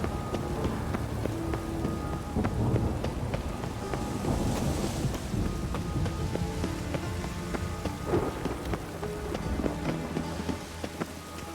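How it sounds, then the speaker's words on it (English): Steady rain falls in the Witcher 3 game world, a dense continuous patter with wind gusting underneath, holding at an even level throughout with no voices. "Rain was coming."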